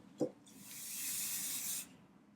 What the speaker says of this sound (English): over my trash can, I went ahead and applied some basting spray to it